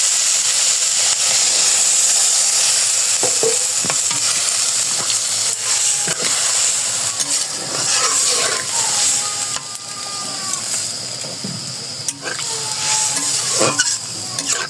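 Pitha fried in a pan on a home stove sizzles loudly after water is poured in, a steady hiss and crackle with scattered clinks and scraping stirs of a utensil against the pan.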